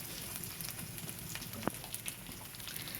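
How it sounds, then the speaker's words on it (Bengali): Chopped onion, garlic and green chili frying gently in a pan, a soft continuous sizzle heard quietly at low level with a small scrape or tap partway through. "পেঁয়াজটা হালকা কিছুটা ভেজে নেব এভাবে"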